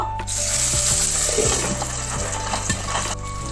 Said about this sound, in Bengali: আমি মাছটা ভেজে নেব।